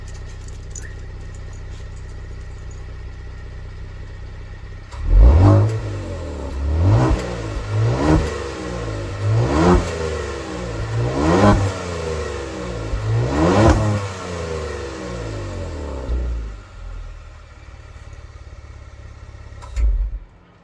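A Kia Stinger GT2 with a 3.3-liter twin-turbo V6 and electronic variable exhaust valves revs hard in about six loud, close blips, each rising and falling back, then the engine settles to idle.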